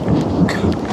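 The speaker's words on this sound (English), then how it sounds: "storm is getting much worse" A loud thunderstorm with a continuous rumble of thunder over steady heavy rain, dense and close.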